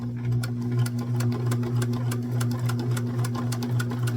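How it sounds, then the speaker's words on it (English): A domestic sewing machine runs steadily close by while stitching a baby bonnet, a fast regular mechanical whir with rapid needle ticks and no talking. "I sewed all the way across, and then I back stitched over it."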